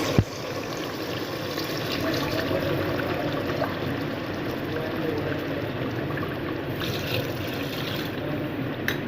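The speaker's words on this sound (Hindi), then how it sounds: "अब मैं इसमें पानी शामिल करूँगी।" Water pours steadily into a pot of browned meat and tinda in a handi, a continuous rushing splash lasting several seconds with no talk over it.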